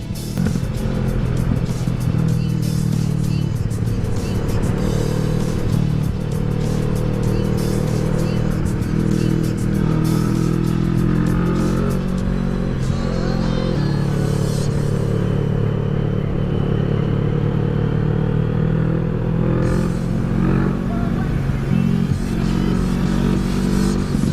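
A CFMoto NK650 motorcycle engine runs loud and close for a long stretch, a deep droning rumble that rises and falls through several revs, with some talking mixed in.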